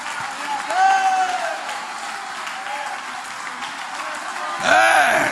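A church congregation breaks into sustained applause, a dense wash of clapping that swells and fades over several seconds, with a voice speaking over it and a louder burst near the end.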